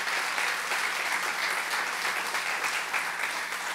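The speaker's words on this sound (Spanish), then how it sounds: "Dale un aplauso fuerte al Señor" Sustained, dense applause from a church congregation, steady and loud throughout with no pauses or voices.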